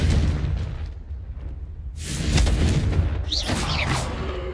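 Confringo spell explosions in Hogwarts Legacy, two heavy booms with a roaring burst, the second blast hitting around the midpoint and sustaining with crackling debris.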